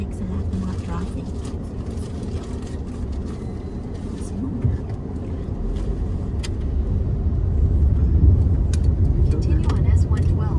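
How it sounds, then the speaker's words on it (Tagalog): Dense road traffic rumbles steadily through the streets of Sharjah, with car and bus engines droning close by and the level climbing toward the end. Speech is also present over the traffic. "Simula nung dumating ako dito, traffic na talaga to masyado."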